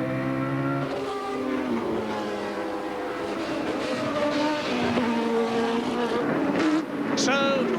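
Derek Warwick's Arrows Formula One car engine at the 1989 Adelaide Grand Prix, a high-pitched racing engine wailing and shifting pitch over distant crowd noise, with faint commentary mixed in.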